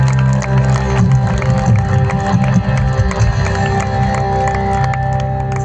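A crowd at a Jharkhand prayer festival breaks into sustained, loud clapping and cheering for volunteers, a dense continuous roar of applause with scattered shouts, nearby and filling the whole stretch.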